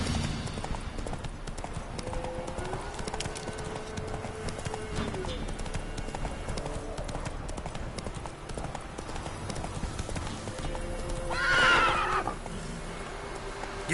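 A horse gallops with a dense, continuous patter of hooves in The Witcher 3: Wild Hunt, under voices and game sounds, with a short whinny near the end.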